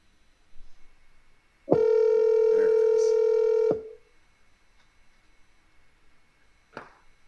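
A telephone call is placed: a brief tone, then a sustained ringback or dial tone lasting about two seconds, followed by quiet line hiss and a short click near the end.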